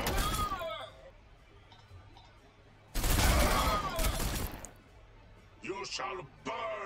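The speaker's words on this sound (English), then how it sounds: "Alright, just do some shooting." Ork units firing in the strategy game Warhammer 40,000: Sanctus Reach, a dense roaring burst of shooting in the middle, with someone talking before and after it.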